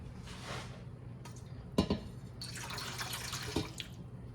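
Home-canned tomato juice pours into a cooking pot, a steady liquid rush with a couple of brief sharper splashes and clinks, heard close and alone without talk.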